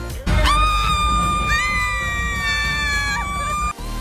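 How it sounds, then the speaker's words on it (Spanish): Two women scream with excitement in a long, high, sustained shriek that rises and wavers, loud and close, lasting several seconds before breaking off abruptly. "Se trata del audio de ellas gritando de emoción"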